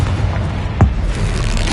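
A Confringo fire spell bursts in Hogwarts Legacy, a single deep booming thump landing near the middle, rising briefly out of a steady rumble of game ambience.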